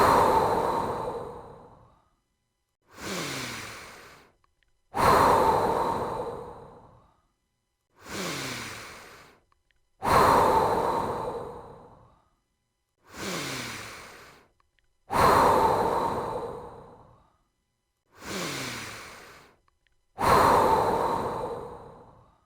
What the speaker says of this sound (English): Take a moment to breathe in and breathe out.